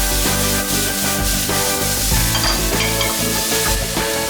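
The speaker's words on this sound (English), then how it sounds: "hot pan, some neutral oil, and put your sliced onions in the pan" Sliced onions hit a hot pan of neutral oil for a pissaladière, and a loud, dense sizzle carries on without a break, with faint stirring scrapes underneath.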